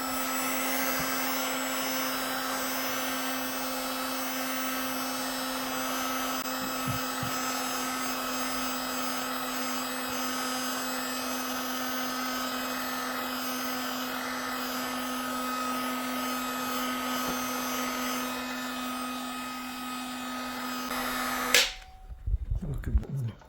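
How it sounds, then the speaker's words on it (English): A heat gun warms the headlight of a 2018 BMW 1 Series, its steady whirring blow running for about twenty seconds close by before it switches off, followed by a few handling knocks. "after just a little warm up with the heat gun"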